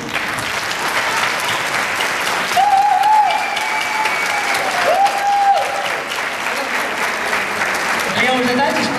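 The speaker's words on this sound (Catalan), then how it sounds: "Un fort aplaudiment per ells." Enthusiastic applause from a crowd at an outdoor village gathering, a sustained, loud wash of clapping; a couple of brief whistles or cheers cut through partway, and voices murmur underneath.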